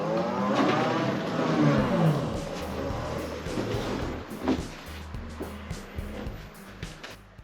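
A Vectrix electric motorcycle about 15 years old rides off, its motor whining in rising sweeps at first, then settling into quieter road rumble with a few knocks.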